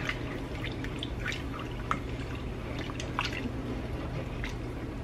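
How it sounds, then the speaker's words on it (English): Gravy stirred in a pan while cooking, soft wet dripping and squishing sounds over a low steady background hum, with no talking. "And then our gravy, we're going to just stir this really good over here."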